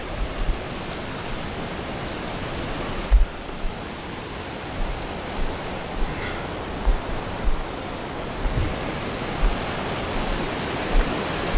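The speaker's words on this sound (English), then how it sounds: "Cool river." A fast-flowing river beside the Bonneville Shoreline Trail near Farmington Pond, Utah, gives off a steady, loud broadband rush throughout, with scattered low thumps and bumps from close by.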